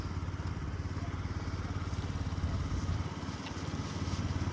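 A Yamaha BWS 49 fuel-injected four-stroke scooter with Dunlop tyres running on a short test ride, a steady close buzzing engine drone with a slight rise in revs midway, no speech.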